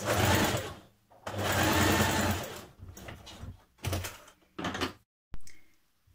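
A sewing machine stitching across the top of a fabric garment piece, with rapid mechanical whirring bursts of varying length separated by short pauses.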